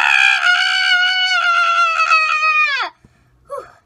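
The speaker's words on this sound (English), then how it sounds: "the purpose of this challenge is to scream as loud as you can for as long as you can" A person screams as loud and as long as possible for a challenge: one loud, sustained, strained cry lasting nearly three seconds that cuts off abruptly, followed by a brief faint sound.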